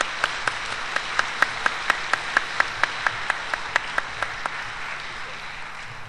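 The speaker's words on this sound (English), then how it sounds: "Please give him a round of applause." An evening lecture audience gives a round of applause as a guest is invited on stage. A dense, steady wash of clapping carries repeated sharp individual claps near the microphone, fading slightly toward the end.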